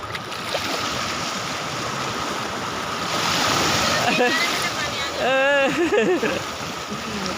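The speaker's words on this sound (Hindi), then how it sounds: "समुंदर की लहरों से बाहर जाती हुई मम्मू" Waves wash and surge steadily close by, a broad roar of surf, with people talking and calling out over it in the second half.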